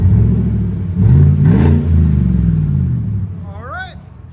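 A 2019 Chevy Tahoe with a 5.3L V8 revs through an aftermarket Flowmaster exhaust, a loud close rumble swelling in two throttle blips before settling to idle, with people talking over it.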